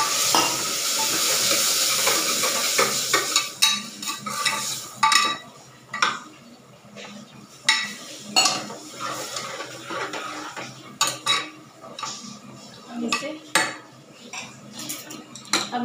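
A spoon scrapes and clinks against a pot as masala is stirred with a little water while cooking Kashmiri rajma, producing irregular metallic knocks over a soft sizzle, close and fairly loud, with no talking.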